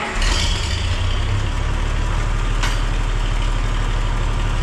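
An International 560 tractor with a freshly repaired front axle and PTO idles steadily, a low, even diesel throb with faint mechanical ticking, heard alone and close by.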